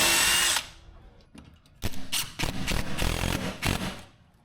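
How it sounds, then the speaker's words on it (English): A power drill bores a pilot hole for a garage door track bracket, whining at full speed briefly, then biting in with several loud grinding bursts, close up and alone. "I'm ready for my first pilot hole."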